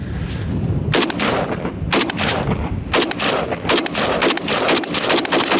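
Loud, sharp AK-style 7.62x39 rifle shots fired outdoors at a range, arriving singly and in quick pairs and triplets with short gaps between them.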